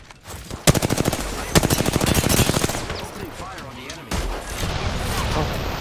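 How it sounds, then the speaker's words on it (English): A Gatling gun in the shooter game Apex Legends fires rapid sustained bursts, loud and close, with dense rhythmic rattling that pauses and resumes amid other gunfire while players talk over it. "Gatling gun."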